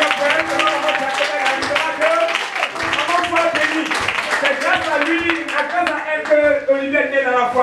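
Applause and clapping fill a wedding ceremony space, a steady dense patter of many hands that runs throughout, mixed with crowd voices and a sustained musical or vocal tone.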